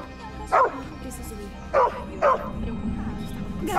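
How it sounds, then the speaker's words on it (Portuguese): A dog in an animated children's film barks three times in quick, urgent yips against a busy background rumble. "O cachorro está tentando nos avisar!"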